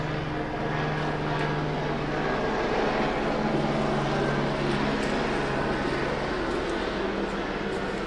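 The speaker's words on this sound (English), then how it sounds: "you wait for the helicopter to fly over." A steady, loud engine drone of a helicopter passing overhead, continuous and unbroken throughout with no voices.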